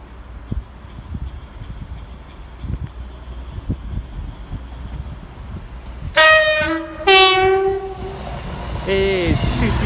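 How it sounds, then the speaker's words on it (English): A Class 221 Voyager cross-country train bound for Penzance passes near a station at Burton upon Trent, opening with a loud two-tone horn blast, a second horn, then rising engine and rail noise after a quiet, rumbling lead-in. "Past now is another cross-country Voyager service to Penzance, formed of a 221 of some kind."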